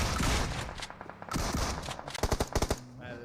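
Gunfire in a battle royale video game during a competitive esports match: a quick run of sharp automatic-weapon bursts and single shots, moderately loud, clustered toward the end.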